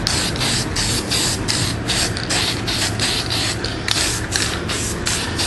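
An aerosol spray can dusts guide coat over the body panels and trunk lid of a 1971 Camaro SS during sanding prep, a continuous close hiss broken by short rhythmic pulses as the can sweeps back and forth.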